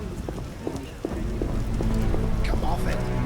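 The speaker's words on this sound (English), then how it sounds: "A scourge of the Lord's this rain." Rainfall in the video game The Witcher, a steady close hiss of rain on surfaces that grows slightly fuller midway, with faint clopping steps and brief tonal sounds on top.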